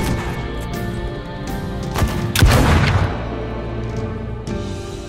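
Gunfire in the shooter STALKER GAMMA, a dense volley of shots swelling into a loud burst near the middle over a steady game ambience.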